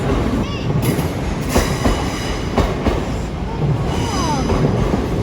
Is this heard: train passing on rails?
yes